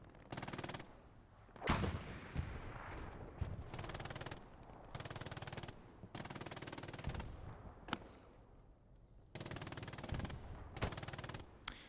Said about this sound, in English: you can live longer than 5 seconds while shooting the MG